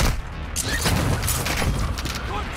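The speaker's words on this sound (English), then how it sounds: "Oh, airstrike." Airstrike explosions in the Warzone 2.0 battle royale game come as a loud, continuous barrage of booms and crackling blasts, with rumbling impacts overlapping throughout.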